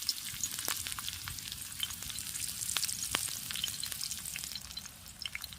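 Onion tossed onto a well-heated pan over fresh oil gives a continuous, fairly quiet sizzle. It stays even throughout, with dense fine crackles and a few sharper spits.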